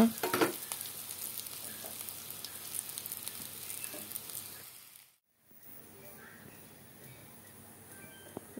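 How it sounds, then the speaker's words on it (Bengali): Fish sizzling in hot oil with a crackling hiss that briefly cuts out, then resumes more quietly. "মাছগুলো নামিয়ে তারপর আবার কিছু মাছ দিয়ে দেব ভাজার জন্য"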